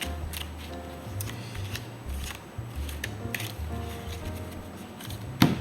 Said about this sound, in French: je remélange un petit peu